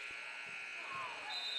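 A game buzzer sounds at the end of the third quarter of a boys' regional high school basketball game, a sustained nasal drone under crowd noise in a gym.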